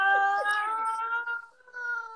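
A house cat meows loudly and close, a drawn-out plaintive cry followed by a shorter second call, with no speech over it.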